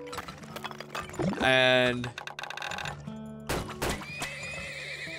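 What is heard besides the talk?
horses neighing and hooves clip-clopping in a video game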